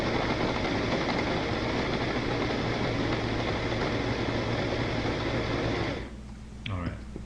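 A kitchen appliance spins kefir-cultured cream into homemade butter, a loud steady motor whir that runs continuously for about six seconds, then cuts off, leaving a quieter tail with faint handling clatter.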